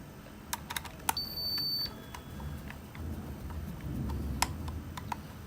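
Sharp plastic clicks and taps sound close by, scattered irregularly as a Paradox alarm keypad cover is pressed and snapped into place, with a brief electronic beep early on.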